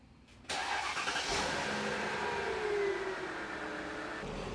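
Mercedes S500 car pulling out and driving on the road, a steady engine and road-noise hum rising abruptly after a brief quiet start and holding loud and even to the end, with no talk.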